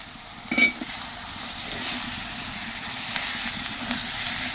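Fried onions and a ground spice paste sizzle steadily in a pan during home cooking, a continuous close crackling hiss with one brief louder pop near the start and no voices.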